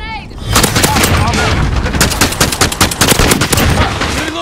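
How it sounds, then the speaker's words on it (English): A cruise missile strike lands in a video game as dense, rapid overlapping blasts and gunfire-like cracks, loud and continuous after a brief lead-in, with faint voice underneath. "Allied cruise missile on the way."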